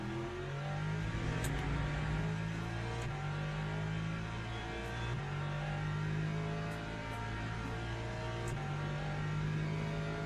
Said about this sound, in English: The sound of the car is amazing on this.